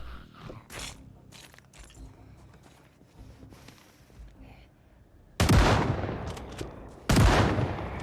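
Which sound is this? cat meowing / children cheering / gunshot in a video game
gunshot in a video game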